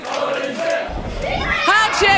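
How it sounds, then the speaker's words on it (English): A wrestling crowd at a women's match chants in unison, a loud massed roar of voices that swells and rises toward the end. "And we get a holy shit chant by the crowd."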